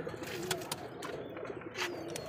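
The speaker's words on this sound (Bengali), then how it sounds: "এটা হচ্ছে আমাদের বোম্বাই কবুতর।" Bombay pigeons, a pair with deep red colouring offered for sale, cooing softly and steadily with a few faint chirps and some background noise, no talking.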